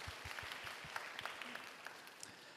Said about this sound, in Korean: 우리 예은이 축복의 박수로 함께 하겠습니다.